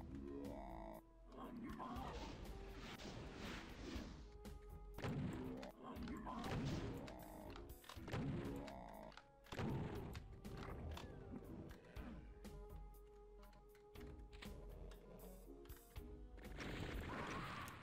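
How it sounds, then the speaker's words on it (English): A barrel blows up in DOOM II after enemies shoot it in an abandoned mine level, a loud crash within a dense run of blasts, roars and thuds from gunfire and monsters. "they shot the barrel behind me"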